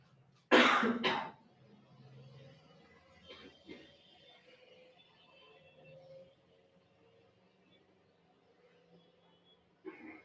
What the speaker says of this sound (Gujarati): ઉધરસ ખાઈ છે શરદી થઈ ગઈ